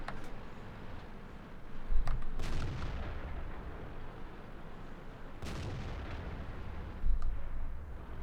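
Tank cannon fire in World of Tanks, a T37 light tank in battle: two heavy booming shots about three seconds apart, each followed by a long rumbling decay over steady background noise.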